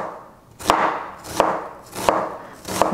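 A knife chops through an onion on a cutting board in four sharp, evenly spaced strikes, close and distinct over a quiet kitchen background.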